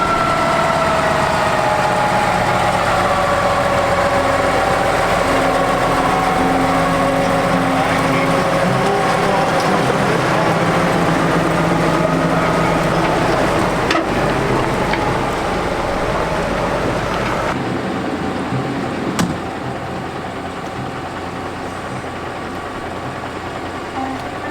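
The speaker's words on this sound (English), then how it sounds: "Man, that's the quietest Peterbilt I've ever heard. Sounds like an electric motor." A Peterbilt truck idles with a smooth, quiet, motor-like hum and a steady low drone, close and continuous for about seventeen seconds before the sound drops away and fades to quieter background.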